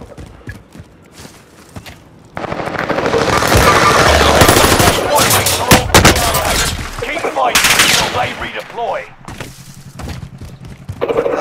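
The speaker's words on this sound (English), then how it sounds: "They've got me targeted. Taking shots." Rapid automatic gunfire in a shooter video game breaks out suddenly after a quiet stretch and goes on as loud, sustained bursts for several seconds. It then drops back to scattered quieter sounds.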